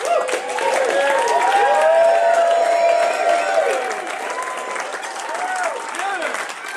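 Wedding guests applauding and cheering in a reception hall, dense sustained clapping with whoops and shouts rising across the room, loud and continuous, fading slightly toward the end.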